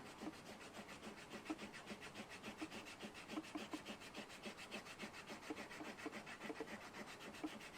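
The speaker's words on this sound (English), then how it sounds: "I'm just putting it on, rubbing it in. I'm trying to keep it fairly even." Stropping compound is rubbed like a crayon onto a leather strop from a BeaverCraft stropping set, giving a faint, close, rhythmic scratchy rubbing of quick repeated strokes.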